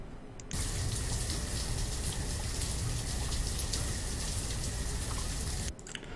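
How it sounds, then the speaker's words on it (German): Heavy rain in the settlement-building game Banished pours down as a loud, steady broadband hiss that starts abruptly and runs evenly for several seconds before cutting off, with no voices over it. "So lauten Regen brauchen wir hier nicht."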